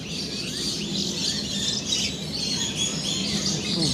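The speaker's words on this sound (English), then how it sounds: "That one is a palm cockatoo." At a bird park, a palm cockatoo calls amid a dense, steady wash of bird chirps and squawks, loud and continuous, with no distinct call standing out clearly from the surrounding aviary noise.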